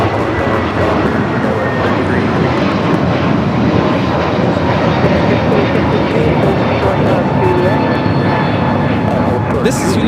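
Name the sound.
United Airlines Airbus A321neo taking off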